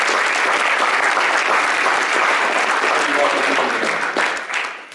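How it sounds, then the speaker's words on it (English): Sustained, loud audience applause for a panel at a manhood-themed event, filling the room as a dense wash of clapping that eases off near the end, with a few voices faintly mixed in. "Just one more round of applause for everyone over here."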